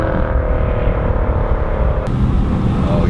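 BMW E90 M3 exhaust on a downshift, a loud close drone that shifts pitch with a sharp blip partway through, steady throughout with no talking.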